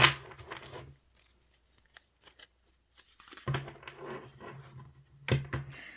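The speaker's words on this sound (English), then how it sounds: "I'm trying to learn how to bridge cards." Tarot cards are bridge-shuffled close up in two quick riffling bursts, separated by a quiet pause with a few soft taps.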